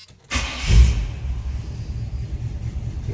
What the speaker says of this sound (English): vehicle fires right up.